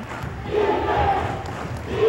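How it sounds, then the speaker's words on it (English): A St. John basketball crowd yelling defense at a 1984 sub-state game, a rising chant of many voices heard from the stands, fairly loud and sustained. "You can hear the St. John crowd yelling defense"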